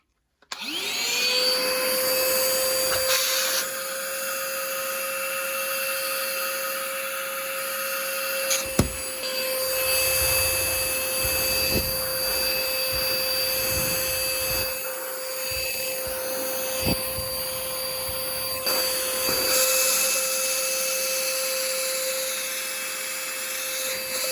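A Black & Decker Dustbuster Reviva cordless handheld vacuum whines steadily with a high, tonal motor pitch and airy rush, running continuously and up close, with a few brief clicks and shifts.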